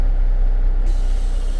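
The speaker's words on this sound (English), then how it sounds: "We're going to release the parking brake only." Releasing the parking brake on an air-suspension tractor-trailer sets off a loud, close air brake hiss that jumps sharply brighter partway through and keeps on as a sustained rush of air.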